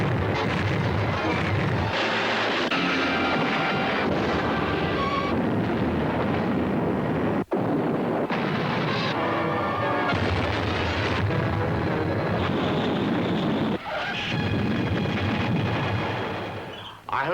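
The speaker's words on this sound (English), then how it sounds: "An explosion always looks good." Explosions and booms in a movie trailer, dense and loud continuous roaring blasts layered with rumbling noise, broken by a couple of abrupt cuts and a fade near the end.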